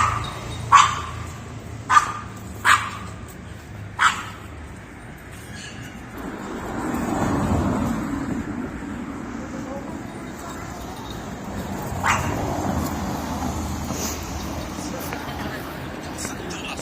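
Four sharp yips from small dogs in quick succession, then quieter ambient noise with soft voices and a faint later bark.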